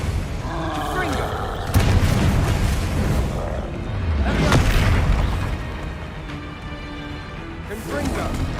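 Confringo fire spells blasting in the Hogwarts Legacy video game: a series of booming explosive bursts over continuous battle noise, loud and close, recurring throughout.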